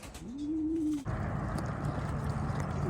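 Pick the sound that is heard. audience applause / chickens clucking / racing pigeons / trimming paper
racing pigeons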